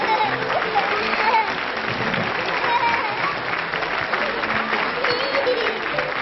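Studio audience at a French TV fan-show taping applauding steadily throughout, a dense, even wash of clapping with crowd noise and a bit of voice mixed in, fairly loud and continuous.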